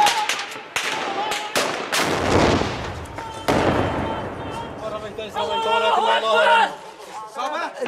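Gunfire and heavy booms ring out in a street battle in Aleppo, Syria: sharp shots and louder blasts come close together, with excited voices and shouting in the background during the later part.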